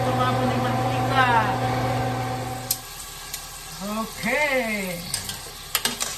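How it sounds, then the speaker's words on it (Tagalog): Yam potato fries frying in oil in a covered pan, a steady close sizzle with occasional clinks, while someone speaks briefly over it. "Antayin natin ng crispy. Takpan natin para hindi tumapon yung mantika."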